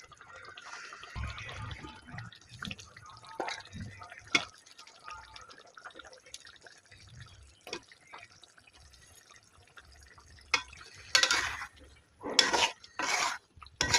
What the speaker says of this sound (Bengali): এবারে আলু আর টমেটোকে ভালো করে আগে কষিয়ে নেব।